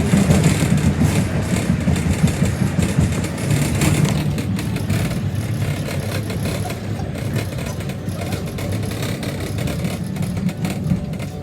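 Heard from inside a paratransit bus on a bumpy drive, the engine keeps up a continuous rumbling drone mixed with rattles and road noise that run throughout, with no talking.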